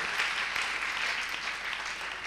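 Church congregation applauding to acclaim the Lord, a steady wash of many hands clapping together, dense and continuous throughout with no pauses.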